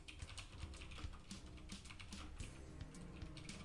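Rapid, steady typing on a computer keyboard, close and quiet, with a continuous flurry of clicking keystrokes and no voices.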